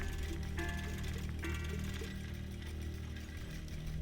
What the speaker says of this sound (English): let's go ahead and use this legendary machine